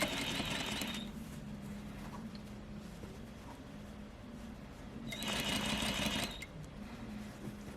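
A sewing machine runs steadily while stitching a curved seam, with two louder, faster bursts of stitching near the start and again around the middle, and a low motor hum between them.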